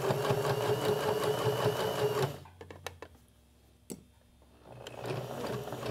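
A sewing machine stitches a fabric pet squeaker toy, running in a steady close mechanical whir for about two seconds, then stopping for a few quiet clicks before starting up again.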